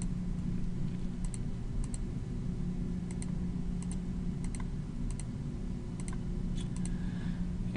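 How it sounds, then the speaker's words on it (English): Keys pressed on a TI-84 graphing calculator while entering data into a list: small, crisp plastic clicks come singly and in quick pairs at an uneven pace over a steady low room hum, with no talking. "let me go ahead and type in the data for list one."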